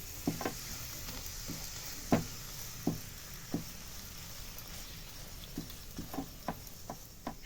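A radish paratha frying in white oil on a hot pan gives a soft, quiet sizzle with scattered crackles and small pops, fairly close and without talk.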